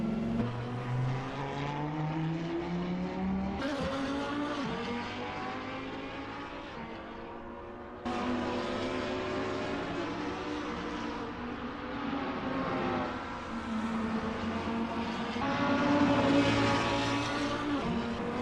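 Lamborghini Huracan GT3 and other GT3 race cars lapping Barcelona at night in Assetto Corsa, with several engines droning and shifting through the gears in layered harmonic tones, sustained and fairly loud throughout.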